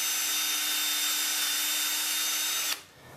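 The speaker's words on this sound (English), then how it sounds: "And I'll just drill a hole through it." A power drill fitted with a 1/16 bit boring through a rubber stopper gives a loud, steady high-pitched whine close by for nearly three seconds, then stops abruptly, leaving a quieter room.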